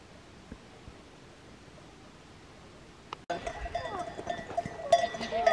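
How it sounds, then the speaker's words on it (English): Goats drawing closer on a hiking trail. Near-silence breaks into a sudden burst of rustling, clanking bell tones and bleating that grows louder toward the end. "I think we are closing up to some goats."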